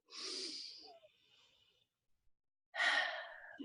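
Someone takes a deep breath in, a soft airy inhale, then after a quiet pause another, stronger breath follows up close.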